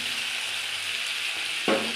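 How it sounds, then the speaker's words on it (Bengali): A spice paste with slit green chillies and ground roasted cumin sautés in a pan, giving a continuous soft sizzle. Near the end a brief stirring clatter cuts in, and there is no talking. "এবার আমি ভালো করে কষিয়ে নেব"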